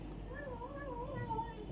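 A soft, drawn-out meow from a mother cat with her kittens, faint and close, with a gliding pitch over a quiet background.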